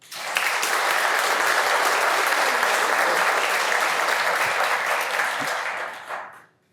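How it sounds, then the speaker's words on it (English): Applause from an audience at an AI demo day event, a dense, steady roar of clapping that starts abruptly, holds loud for about six seconds, then tapers off at the end with no talking over it. "please make some noise for Kevin Tyler."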